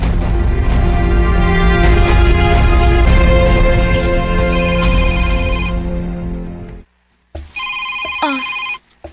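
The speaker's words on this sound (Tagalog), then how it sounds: "Imong cellphone, ni Ring." A mobile phone ringtone plays loud and close, a repeating electronic melody that cuts off briefly and then resumes for a short burst, with no one speaking over it.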